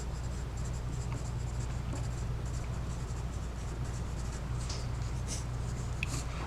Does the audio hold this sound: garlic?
no